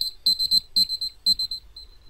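A timer goes off in the video game Hellblade: Senua's Sacrifice as a rapid series of bright electronic beeps, grouped in quick bursts with brief gaps, clear and close, with no talk.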